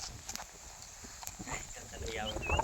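Hooves of a Sindhi horse clip-clop in light, uneven steps nearby, partly under people talking.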